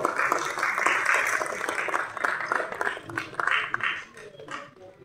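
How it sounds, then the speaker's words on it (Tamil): Applause for Lalgudi Ilaiyaraaja at a film audio launch, a crowd clapping steadily under a speaking voice, then thinning and fading toward the end. "ஒரு மிகப்பெரிய கைத்தட்டல் நம்ம லால்குடி இளையராஜா சார் அவர்களுக்காக கொடுக்கலாம்"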